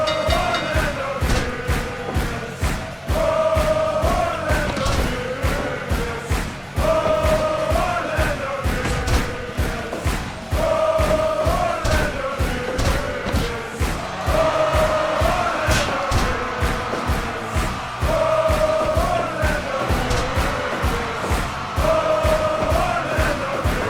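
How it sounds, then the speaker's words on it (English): Crowd cheering in the Blake's House Wrestling video game, a continuous roaring arena audience with rhythmic stomping thuds and chants repeating in waves, loud and sustained without talk. "And the Blake's House Wrestling audience already fired up."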